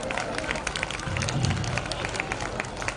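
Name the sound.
crowd clapping to welcome party workers at a rally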